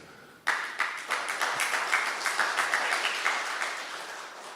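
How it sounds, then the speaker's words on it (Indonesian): A church congregation breaks into applause, starting abruptly and swelling into steady, fairly close clapping from many hands that holds for several seconds before easing slightly. "Saya yakin tepuk tangannya bisa lebih baik daripada ini."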